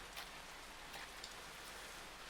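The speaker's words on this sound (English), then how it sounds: "I feel the cold rain on me." Steady cold rain falls in a visual novel game scene, a dense even hiss of drops with faint patters, alone and without voices.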